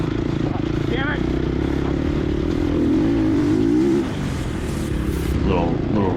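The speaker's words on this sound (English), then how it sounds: "I just twisted the throttle to get out of there." Gas Gas EX250F dirt bike engine revving hard on a harescramble singletrack as the throttle is twisted open, a loud, steady close-up roar with a rising pitch sweep mid-way, continuous throughout.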